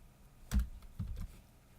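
A few soft computer keyboard taps while a message is typed, close and sparse, with three or four distinct strokes and no talking.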